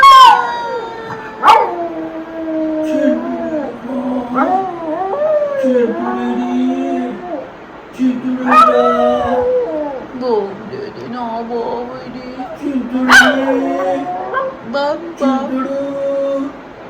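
Dog yips, whines and howls on and off for an extended stretch, close by and fairly loud, with a person talking intermittently.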